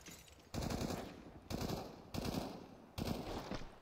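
Bursts of automatic gunfire in Counter-Strike during a professional esports match on the Nuke map, several loud broadband volleys in quick succession with brief gaps between, no talk over them.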